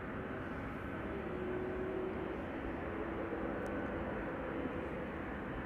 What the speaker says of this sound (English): there is a twin jet passing overhead, approaching my zenith